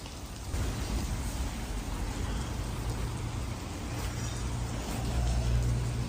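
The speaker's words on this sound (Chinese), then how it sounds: "听外面下的很大呀" Heavy rain falls outside a camp beneath a bridge during a cycling tour of China: a thick, continuous roar that swells slightly toward the end, with a low rumble underneath and no one speaking.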